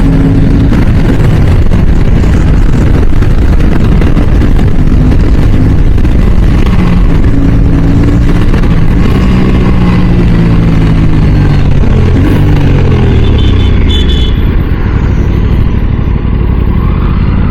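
An Aprilia RS 457 motorcycle engine accelerates in sixth gear, a loud, steady drone whose pitch climbs gradually over the whole stretch, close and continuous with rushing wind noise and no talk.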